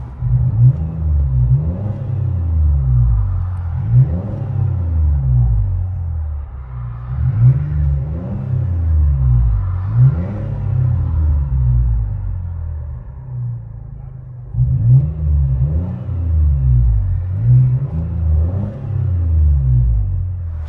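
Deep, throaty exhaust drone from a black 2020 Chevy Blazer RS with a muffler delete, heard from inside the cabin: a loud, steady low rumble that swells in repeated revving surges, with a brief dip partway through.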